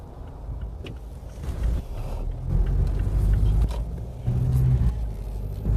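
A Skyactiv diesel car engine revs as the accelerator is held down, a low droning rumble that swells and stays loud, heard from nearby with no talking.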